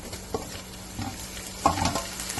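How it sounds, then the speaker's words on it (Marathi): Tomatoes go into browned onions frying in a pan for Agri-style kolambi bhaat, a soft continuous sizzle broken by a few brief stirring scrapes, close and fairly quiet. "आता आपण याच्यामध्ये टॅमॅटो टाकूया."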